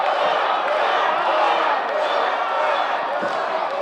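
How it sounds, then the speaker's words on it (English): A dense, continuous roar from an indoor wrestling crowd at the Scottish Rite Temple, cheering loudly behind a wrestler with clapping mixed in, sustained throughout at close range. "Crowd solidly behind Thor Theriot here at the Scottish Rite Temple."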